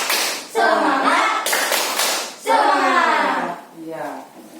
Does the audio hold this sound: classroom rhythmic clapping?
yes